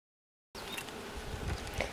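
Honey bees buzz steadily at a Flow Hive during hive setup, a dense outdoor hum that starts abruptly after a brief silence and continues loud and close to the end.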